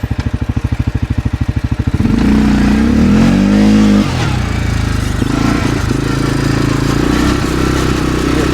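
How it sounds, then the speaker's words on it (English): A CFMOTO ATV with a blown-up engine idles in a fast, lumpy putter, then revs up into a loud sustained drone with shifting pitch as it is put into four-wheel drive, close by. "Now we're gonna throw it in four-wheel drive."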